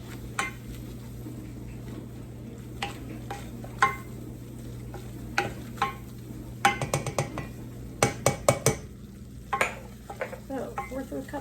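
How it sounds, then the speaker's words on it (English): A utensil stirs flour into melted, bubbling butter in a pan, giving repeated scraping clicks and taps against the pan over a soft steady sizzle, with a quicker burst of stirring toward the end. "I'm going to add to that 1/4 cup of flour. I'm going to stir that in"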